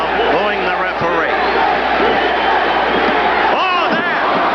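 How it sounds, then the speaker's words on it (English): A large boxing crowd at a Jimmy Clark vs Teofilo Stevenson bout boos the referee in a loud, unbroken roar, with a commentator's voice talking over it throughout. "Crowd booing incessantly now,"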